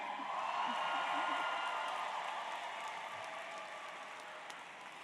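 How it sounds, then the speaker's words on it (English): A high school graduation audience cheers and applauds in a large hall, a dense, sustained roar of clapping and whoops that swells early and then slowly eases off. "put your hands in the air and cheer"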